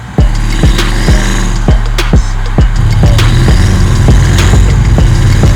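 A twin-turbo LSX-powered 1966 Chevelle sits loud and close, its engine rumbling under repeated sharp bursts and chuffs from the turbo blow-off valve, with no voices.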